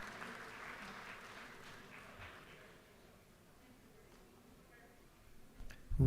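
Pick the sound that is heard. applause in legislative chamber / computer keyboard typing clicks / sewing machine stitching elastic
applause in legislative chamber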